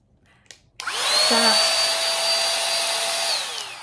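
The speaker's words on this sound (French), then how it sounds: "Alors non, ça n'est pas un sèche-cheveux. C'est un aspirateur de voiture." A cordless car vacuum cleaner switches on after a couple of faint clicks and runs with a loud, steady high-pitched whine for about three seconds before beginning to wind down at the end.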